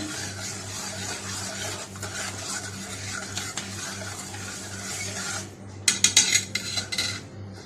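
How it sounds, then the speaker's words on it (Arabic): A spoon stirs water and sugar steadily in a metal pot, scraping continuously, then ends with a quick run of sharp clinks against the sides. "وهقلب الميه مع السكر الاول."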